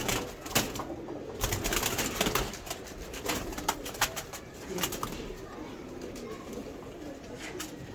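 Pigeons coo softly among a flock kept by a pigeon fancier, low murmuring calls mixed with scattered clicks and rustles at moderate distance, faint throughout.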